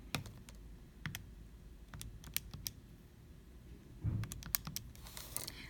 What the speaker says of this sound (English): I'm literally going to type what I see.